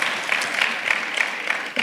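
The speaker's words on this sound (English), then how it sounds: "Give her a round of applause," At a high school graduation ceremony, an audience gives a short round of applause, a steady patter of many hands heard from a middle distance.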